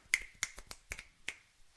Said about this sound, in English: Snaps.